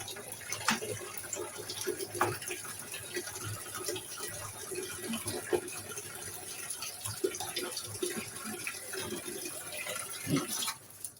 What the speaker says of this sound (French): Je vais simplement allumer l'eau froide pour vérifier que ici, j'ai une bonne pression.